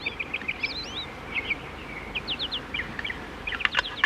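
Small birds chirping, dickcissels, a string of quick high tweets and trills at close range, varying in rhythm, with no voices.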